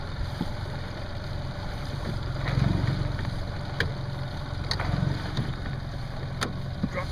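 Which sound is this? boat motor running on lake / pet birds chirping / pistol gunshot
boat motor running on lake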